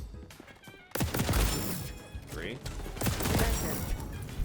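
Shotgun blasts go off in a video game, a burst of loud, crashing shots that keeps going as the fight continues, with a player's voice talking over the action.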